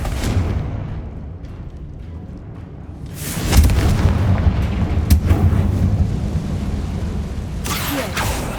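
Explosive Confringo spell in the Hogwarts Legacy video game: quiet ambience, then a loud booming blast with a rumbling tail and further sharp bursts.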